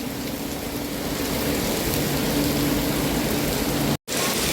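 Heavy rain pours down in a dense, steady hiss close by, loud and unbroken apart from a sudden brief cut near the end.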